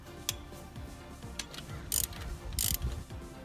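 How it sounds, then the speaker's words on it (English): A ratchet with a 14mm socket on a short extension loosens a bolt on a Subaru EJ engine, producing quiet scattered clicks and a few sharper bursts of rapid ratcheting. "grab that short extension and the 14mm socket and throw it on with a ratchet and loosen that bolt"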